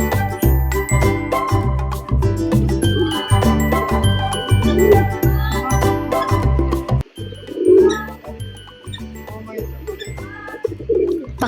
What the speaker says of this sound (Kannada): ಪಕ್ಕದಲ್ಲಿ ಕಾಣಿಸ್ತಿದೆಯಲ್ಲ ಪಾರಿವಾಳಗಳು